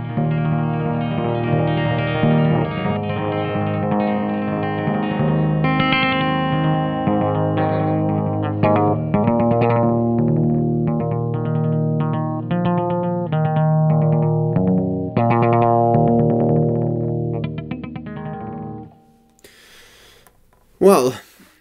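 An electric guitar played with a rubber ball and a long metal cable tie rings out in sustained, shimmering notes through distortion and chorus effects, running continuously before a scraping sound near the end.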